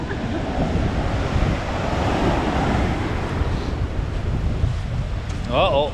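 Wind and surf roar steadily on the black sand beach at Reynisfjara, Iceland, a loud, continuous rush with heavy wind buffeting on the microphone, and a brief voice near the end.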